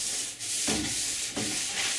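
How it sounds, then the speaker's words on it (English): Hand sanding on a kayak's polyurethane varnish coat before the final coat, in steady back-and-forth strokes, close and continuous, with no voices. "Sanding for the final coat"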